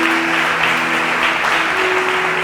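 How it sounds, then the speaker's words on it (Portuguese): A church congregation applauding during a worship service, a steady, dense roar of clapping throughout with a faint sustained musical tone beneath. "Dê outro forte aplauso ao Senhor"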